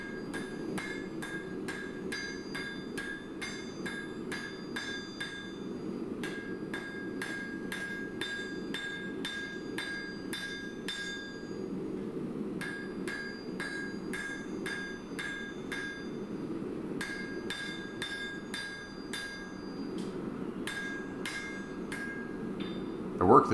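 Hammer forging high carbon steel on an anvil in a blacksmithing demo, a long run of sharp ringing strikes in quick rhythmic groups with short pauses, over a steady background hum.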